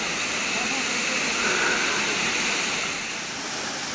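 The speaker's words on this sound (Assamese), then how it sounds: "পানীৰ শব্দ, ইমান ধুনীয়া পানীৰ শব্দ" A waterfall pouring down from above, a continuous broad roar of rushing water that swells slightly midway, with a voice faintly present beneath it.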